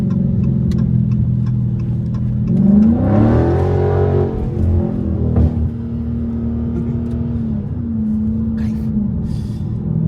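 A Dodge Challenger 6.4 SRT Wide Body revs while being driven, its V8 swelling into a loud, rising roar that peaks and then settles into a steady, deep engine drone heard up close.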